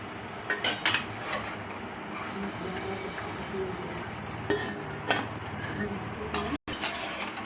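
Roasted cashews from a golden-fried veg cashew masala dish are tipped into a metal pot, giving a few sharp clinks and clatters of utensils near the start and again later, over a steady kitchen background with talking.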